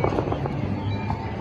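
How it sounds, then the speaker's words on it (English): Fireworks at a Disneyland show rumble and pop continuously, a dense loud crackle of bursts filling the night air with no clear gaps. "but first we're going to see the fireworks."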